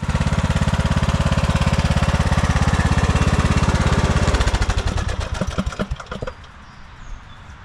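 A pristine lawn tractor's engine runs loud and steady during a test, then sputters, misfires and dies away into quiet.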